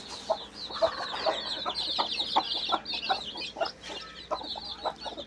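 A hen clucks repeatedly in short, uneven bursts, close by, with faint chirps from other birds in the background.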